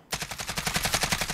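An AKS-74U fires a sustained automatic burst in Call of Duty Modern Warfare, loud and close, with rapid evenly spaced shots rattling steadily from start to finish with no talk.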